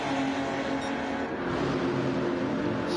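Race cars in the Nippon GR2 Super Cup cross the finish line with a steady, droning engine note that holds evenly throughout at moderate volume.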